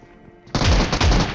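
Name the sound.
automatic gun firing in a shooting video game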